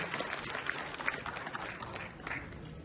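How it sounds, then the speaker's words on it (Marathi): Applause at a bus depot award ceremony honouring the depot manager, a steady wash of clapping from a crowded hall lasting a few seconds, with faint voices mixed in. "जोरदार टाळ्या"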